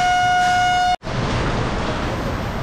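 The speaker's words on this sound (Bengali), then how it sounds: "এই কাঞ্চনকন্যা বেরিয়ে যাচ্ছে," The Kanchankanya Express sounds a long, steady horn as it leaves the station, then the horn stops abruptly and heavy rain carries on as a dense roar.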